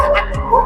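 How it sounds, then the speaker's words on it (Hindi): A dog at a dog shelter gives a short yip-like bark, close and fairly loud against a busy background with faint voices nearby. "ये मुस्कान का डॉगी है"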